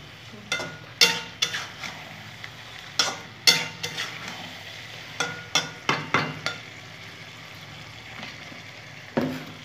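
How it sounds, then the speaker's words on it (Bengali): A ground paste of sesame, poppy seed, mustard and green chili fries in a pan, with a steady soft sizzle broken by a dozen sharp, irregular spoon scrapes and taps as it is stirred close by. "তিল, পোস্ত আর সর্ষে, কাঁচা লঙ্কা দিয়ে বেটে রেখেছিলাম, ওটা দিয়ে দিলাম"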